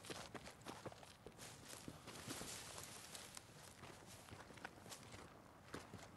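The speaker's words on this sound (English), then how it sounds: "hearing my own footsteps?" Rapid, quiet footsteps of a soldier character in the shooter game Battlefield 2042, an irregular patter of soft thuds running continuously over dense background noise.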